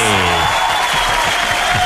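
Applause sound effect on a Hungarian morning radio programme, a short, loud, steady crowd clapping following a quick bit of speech at the start.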